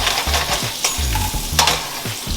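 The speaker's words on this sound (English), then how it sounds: "now we're just gonna let these carrots cook down" Carrots cooking down in a pan for a vegan maple carrot bowl, with a steady close sizzle and frying crackle under repeated stirring scrapes and clatters.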